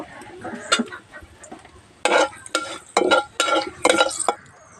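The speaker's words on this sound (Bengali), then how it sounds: "ফোড়নটা একটু ভাজা ভাজা করে নেব।" Bay leaves and whole garam masala fry in hot oil for bhuna khichuri, with a soft sizzle under several loud, close stirring scrapes of a spatula against the pan.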